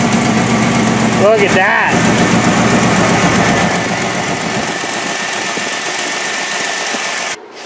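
A 4.3 Vortec V6 fitted with long tube headers, CPI and spider injection fires up for the first time and runs loud and close with an exhaust leak, a brief spoken remark over the idle before it cuts off at the end.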